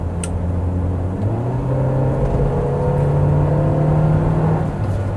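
A 2016 Daihatsu Grand Terios accelerates in sport mode on the road, its engine drone rising steadily in pitch, heard from inside the car with a constant loud hum.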